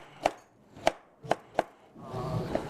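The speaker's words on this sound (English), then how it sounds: "I'm just slicing those pears and apples into wedges" A knife cuts pear and apple wedges on a cutting board, landing four crisp, separate knocks at an uneven pace, then a rougher scraping, shuffling stretch with one last light tap; no one speaks.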